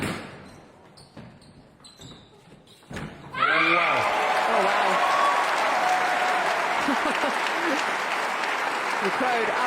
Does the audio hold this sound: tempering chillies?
no